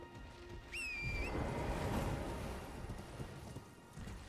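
A fast horse in Elden Ring gallops by with a soft, rapid run of hoofbeats under a brief rising whistle-like cry, quiet and blended with game ambience.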